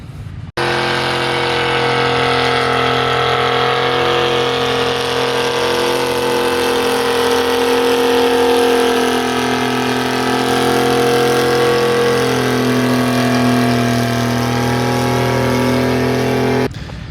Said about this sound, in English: Can't imagine working a whole day in the seat of that tractor listening to that Detroit screaming away.